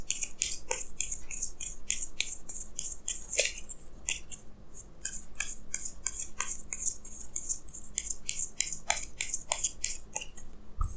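Tarot cards are shuffled and drawn, giving a steady run of crisp flicks and papery slides with small taps, fairly close and continuous, with no talking.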